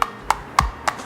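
Bone dry pottery clay bowl tapped four times at an even pace, each a short, bright, hollow click close up with a faint ring, alone against quiet room noise.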